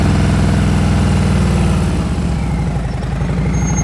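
Motorcycle engine idling and puttering steadily at low revs during slow-speed riding practice in Ohio, close and continuous with a rhythmic low throb throughout.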